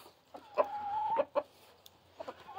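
Chickens clucking at dawn on a small rural farm in North Carolina, a few quiet, close clucks in short bursts with one drawn-out call, separated by pauses.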